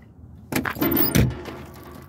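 A John Deere 35G compact excavator's cab door swings and shuts with a loud, close metallic thud, preceded by a light rattle and followed by a short fading ring.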